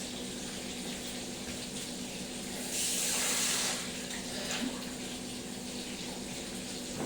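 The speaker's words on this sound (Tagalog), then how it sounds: "Lagyan natin konting tubig." Water from a tap runs in a brief soft hiss into a dough mixture for cheese bread. The stream is quiet and lasts about a second, over a low background hum.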